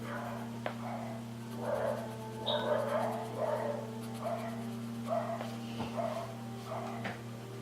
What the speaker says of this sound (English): And there go the neighbours' dogs again.